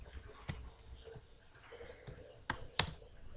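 Someone types on a computer keyboard while writing SAP ABAP code, with sparse, quiet keystrokes and a couple of sharper clicks near the end, close and alone without talk.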